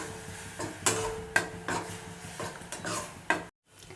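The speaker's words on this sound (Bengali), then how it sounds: "এই ডালটাকে আমি একটু ভেজে নিচ্ছি।" Lentils (dal) fry in a pan with a little turmeric and cumin powder, giving a low sizzle with several sharp scrapes and clicks of a utensil stirring, close by, ending abruptly.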